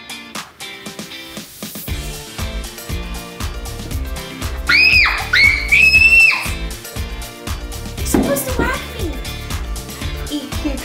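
A child lets out high, piercing screams mid-clip during a playful horror role-play recreating the Piggy game, with other children talking and playing nearby before and after.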